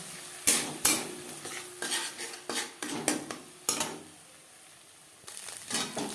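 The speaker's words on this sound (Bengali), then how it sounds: "পেঁয়াজ কুচি লঙ্কা কুচি সামান্য পরিমাণে লবণ দিয়ে ডিমের ভুজিয়া তৈরি করে নেব" Egg bhujia with chopped onion, chili and a little salt stirred in a pan, giving repeated close spatula scrapes and clinks on metal over a soft continuous sizzle, with a brief quiet pause.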